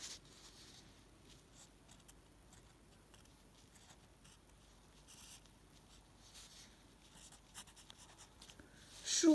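Pen strokes scratching on paper while handwriting the Chinese character 书, soft and close with short brushing bursts separated by pauses, faint and alone.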